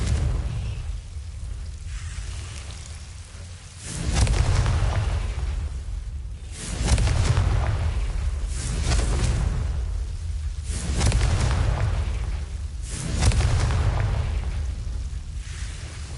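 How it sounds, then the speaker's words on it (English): Fire spell blasts in the video game Hogwarts Legacy: four deep, booming explosions a few seconds apart, each followed by a crackling, rumbling tail over a steady low background. "Confringo"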